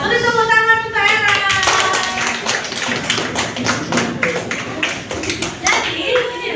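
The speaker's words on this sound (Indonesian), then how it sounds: "Beri tepuk tangan untuk Era." A classroom of students applauds a classmate, a burst of dense, close clapping that carries on steadily for several seconds, with a voice audible near the start.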